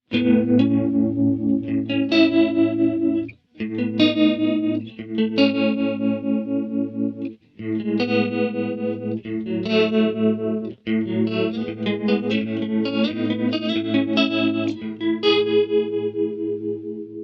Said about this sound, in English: So now we're on the red tremolo setting with the chorus effect.